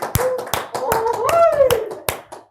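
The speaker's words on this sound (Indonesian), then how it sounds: "Teman-teman tepuk tangan dulu dong." A few studio guests clap their hands in a podcast studio, sparse sharp claps in a loose rhythm, with a voice and tonal sounds running beneath them.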